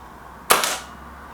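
A single sharp crack from a Kral NP500 air rifle firing, loud and close, with a brief ringing tail fading into a quiet background.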